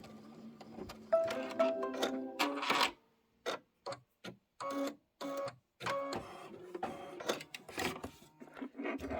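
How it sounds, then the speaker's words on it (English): An embroidery machine stitches a placement line on fabric for a Halloween pillow design, a loud rapid mechanical rattle broken by brief pauses and short stop-start bursts of needle clatter close by. "Now it's going to do a stitch, trim, placement line."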